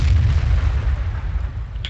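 A tank cannon firing in the World of Tanks video game: a single heavy, rumbling boom with a sustained low roll, loud and close, no talking over it.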